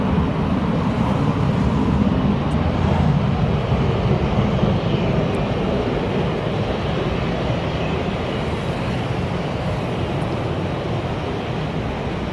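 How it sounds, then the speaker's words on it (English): A Turkish Airlines plane touching down at Manchester Airport gives a continuous low, rumbling engine roar at moderate distance, steady and slightly fading, with no talking. "I think we just got a Turkish Airlines just touching down behind."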